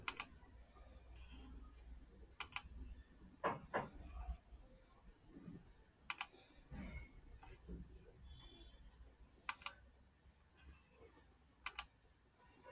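Sharp, isolated computer mouse clicks sound while someone builds charts, about half a dozen spaced irregularly over quiet background with faint low rustling between them.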